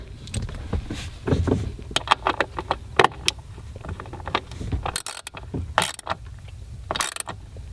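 A bolt is tightened down while a nitrous kit is fitted to a 2015 Corvette, bursts of ratcheting clicks and metallic clanks close by, with a few sharp louder scrapes and knocks between them.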